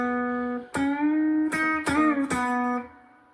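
An electric guitar plays a short solo line with hammer-ons and string bends, a few sustained notes with sliding pitch and brief plucked attacks, heard alone and close.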